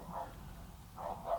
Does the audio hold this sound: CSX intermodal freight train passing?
no